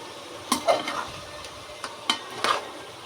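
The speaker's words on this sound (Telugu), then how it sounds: "వీటిని ఒకసారి తిప్పేసుకుందాం." Chicken curry frying in a pan is stirred with a spoon, a few sharp scrapes and knocks against the pan over a low sizzle, close up with no voices.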